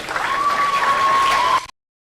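An audience at a university matriculation ceremony claps in a short, dense burst with a steady tonal hum running through it, cutting off abruptly after about a second and a half.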